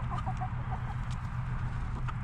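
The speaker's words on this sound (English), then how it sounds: "We have 4 roosters and approximately 45 hens and 1 turkey." A backyard flock of about 45 hens and 4 roosters clucks continuously at close range, overlapping soft clucks and murmurs over a steady low background, no talking.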